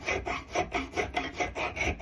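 A file rasps against the inside of the bottom lug of a knife guard in quick, even strokes, about four per second, close up with no talking.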